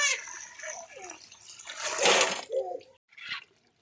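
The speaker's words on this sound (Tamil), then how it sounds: "தேவையான அளவு தண்ணி ஊற்றிக்கலாம்" Water is poured into a pot of rice while dum biryani is cooked at home, giving a few gushing, splashing bursts with brief pauses between them, fairly close and moderately loud.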